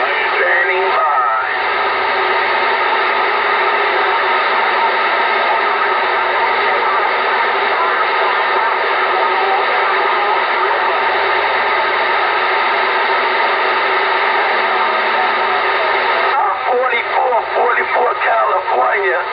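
A 12-watt CB radio picks up a long-distance skip transmission: garbled, band-limited voices come through a steady wash of hiss and static that runs loud and unbroken from start to finish.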